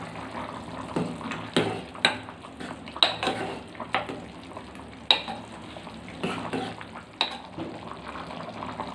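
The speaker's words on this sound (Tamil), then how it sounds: "இப்போ நல்லா கலந்து விட்டுக்கலாம்." Vegetable soup with lightly roasted, ground dried red chilli powder is stirred in a pot, making irregular bursts of sloshing and scraping with soft bubbling between strokes, close by and without speech.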